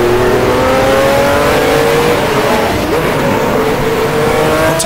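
A Ferrari T4 race car in a 1979 Grand Prix Classics game mod, its engine droning loud and steady at high revs, pitch climbing slowly through a gear with a brief dip midway.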